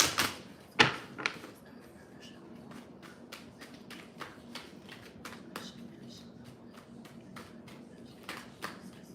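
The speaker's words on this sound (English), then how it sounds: "Caridad, type stop when you're ready for me to stop shuffling." Playing cards being shuffled during a live online spiritual reading, a steady run of crisp riffling taps and flicks at close range over a faint background hum, with a few louder handling knocks near the start.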